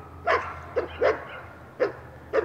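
Dogs bark several times outdoors, five short sharp barks spaced irregularly over a couple of seconds, moderately distant and clear above a low background hum, with no one talking.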